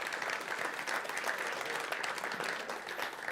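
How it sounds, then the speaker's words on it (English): An audience at a cloud native tech meetup claps for the production crew, a steady, dense wash of applause from many hands that stays even throughout, fairly quiet and distant. "So let's give an applause for the crew."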